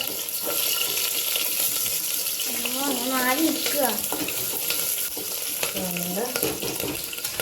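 Ginger and green chillies spluttering in hot oil for a beef curry, a loud steady sizzle and crackle running throughout, with a person briefly talking over it.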